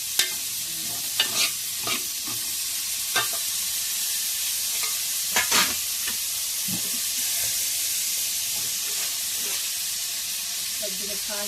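Mushroom curry ingredients fry in a pan with a steady sizzle and hiss, broken by several sharp scraping stirs of a spatula, close and fairly loud, with no voice.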